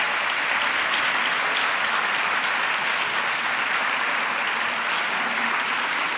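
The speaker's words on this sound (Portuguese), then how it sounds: "Um aplauso, parabéns." A room full of people at a professional oath ceremony in Lisbon claps steadily and loudly for several seconds without a break, dense and even throughout, and no voice stands out.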